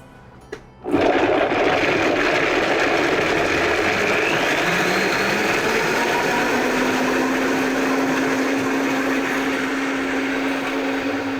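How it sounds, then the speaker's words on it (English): Blender whirring steadily as it purees a ginger miso sauce, starting abruptly after a click and running loud and continuous with a high, even motor whine. "we'll run the blender for about a minute just to be able to process everything and make it really smooth"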